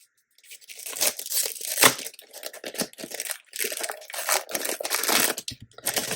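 Christmas-kit paper die cuts being handled, with repeated crinkling and tearing rustles in close, uneven bursts and brief pauses.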